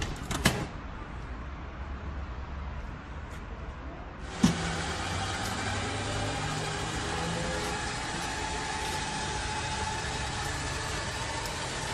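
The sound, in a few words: BMW Vision M Next concept car driving in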